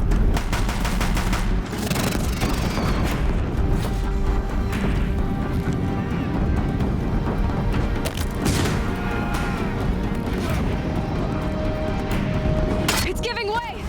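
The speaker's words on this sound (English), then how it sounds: "If the Deathbringers keep firing, this bridge will go." Deathbringer machines in Horizon Zero Dawn fire sustained heavy bursts of gunfire and crashing blasts, loud and continuous throughout, with game voices talking over the barrage.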